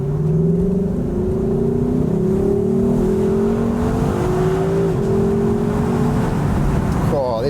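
Lexus LC500 V8 engine revving and pulling hard under acceleration in Sport Plus mode, heard from inside the cabin with the windows cracked slightly, a steady loud rising drone with gear-change dips through the run.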